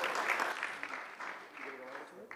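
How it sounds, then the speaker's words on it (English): Brief audience applause at a publishing industry conference, short burst of clapping mixed with a talking voice over it. "Again, big round of applause for Jeff and his team."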